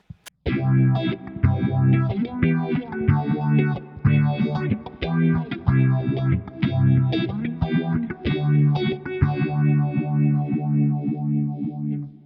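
Electric guitar plays a choppy riff through a Valeton GP200 phaser effect on its sharp setting, swirling and sharp-sounding, notes pulsing in a steady rhythm, close and fairly loud.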